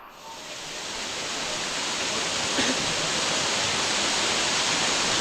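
Waterfall pouring onto slippery rocks, a dense continuous roar of rushing water that swells slightly at the start and then holds steady, loud and close with no talking.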